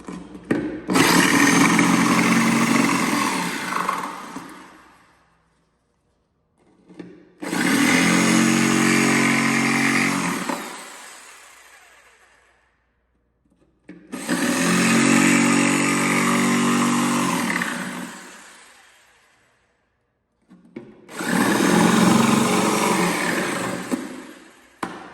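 A jigsaw cuts a notch into a kitchen cabinet during a renovation, running in four loud, sustained bursts of buzzing saw noise separated by short silences.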